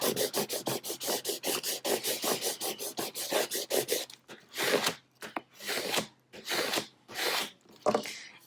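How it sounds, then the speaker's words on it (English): A scraper rubs firmly across craft vinyl scraps on a Cricut project, first in a quick run of short rhythmic strokes, then in slower, longer separate scrapes, close and fairly quiet. "I'm just gonna kind of put this down in the middle here and just scrape down like I would with"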